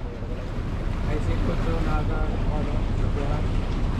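Big sea waves before an approaching typhoon, heard from a fishing boat, a loud, continuous rush of surf and wind buffeting the microphone.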